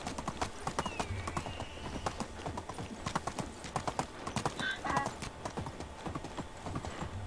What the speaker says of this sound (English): The horse is worth having. It's faster, it carries almost as much, and it does save a lot of time and effort, but it is one noisy beast.